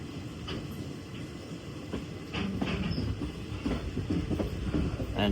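The Machilipatnam Express passenger train runs along the track, a steady rumble with rhythmic clickety-clack of wheels over rail joints, heard from close by and growing slightly louder partway through.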